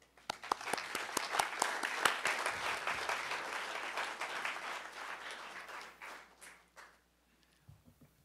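A lecture-hall audience at a talk on ecological spirituality breaks into sustained applause, dense clapping holding steady for several seconds before thinning out and fading to near silence at the end.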